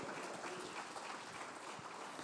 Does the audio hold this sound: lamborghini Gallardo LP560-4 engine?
no